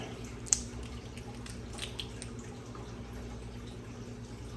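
Sera aquarium test reagent dripping from a small bottle into a test vial: one crisp drop stands out, then a fainter one, over quiet background hiss, with no talking.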